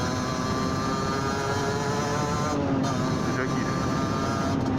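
Continuous engine hum of a motorcycle being ridden, steady and moderately loud under someone talking throughout.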